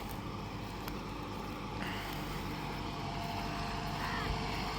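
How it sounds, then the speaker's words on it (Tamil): A Mahindra NOVO 655DI CRDI tractor in four-wheel drive and medium gear, its engine held near 1200 rpm while pulling a cultivator through dry red-soil field, giving a steady, dense, continuous drone with no break. "4 wheel டிரைவில் மீடியம் ஃபஸ்ட் கியரில் 1200 இன்ஜின் ஆர்பிஎம்மில் ஓடிட்டு இருக்குதுங்க"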